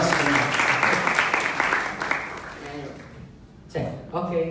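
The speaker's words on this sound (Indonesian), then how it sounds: "Tepuk tangan." A church congregation claps in steady applause for the first three seconds, then it fades. A voice speaks over the tail end.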